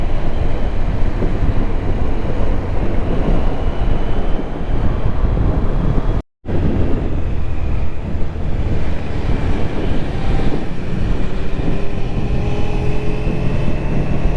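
A new red BMW S1000 RR Pro sportbike out on a ride to Melukote, heard from on board as a constant loud roar of engine and rushing wind with one momentary dropout partway through.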